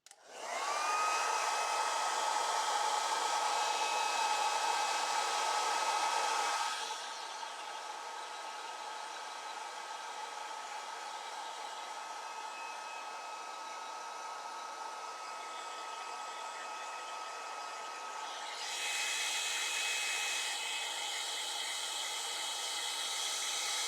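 A hair dryer blows steadily on wet paint for over twenty seconds, a loud, close, continuous whoosh that drops to a lower setting partway and then rises again.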